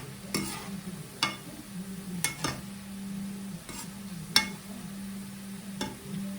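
Boondi frying in oil in a kadhai, with a steady sizzle and a ladle periodically clinking and stirring against the metal pan at a few sharp, evenly spaced moments.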